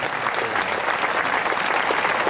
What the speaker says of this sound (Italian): fare un grande applauso meritato a quel grande conduttore